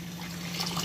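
Water is poured onto about two cups of leftover cooked rice in a home kitchen, a soft continuous trickle and splash close by, rising slightly in level toward the end, with no talking.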